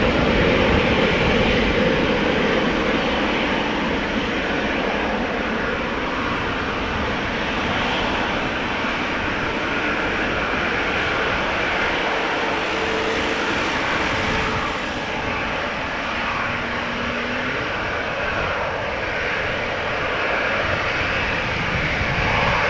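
A Boeing 737-900 jet airliner at Amsterdam Schiphol Airport gives a steady, broad engine roar that holds at an even loudness throughout, with no voices over it.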